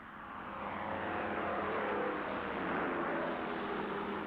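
Military aircraft scramble at Midway, a broad, sustained engine roar that swells in over the first second and holds loud and steady, with no voices.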